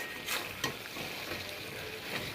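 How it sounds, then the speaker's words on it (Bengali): Alu posto, a curry of potatoes, vegetable stalks and poppy seeds, frying in a pan: a faint, steady sizzle broken by a few soft scrapes and taps from the spatula, close by and quiet. "এবার এটা আঁচ বাড়িয়ে ভেজে নামিয়ে নেব"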